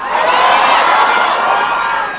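A large protest crowd at the Trillion Peso March shouts and cheers together in a loud, sustained roar with scattered whoops, close and continuous throughout.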